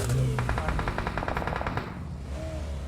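A rapid burst of automatic gunfire in a video game rattles off in quick succession for about two seconds, then cuts out into quiet background noise.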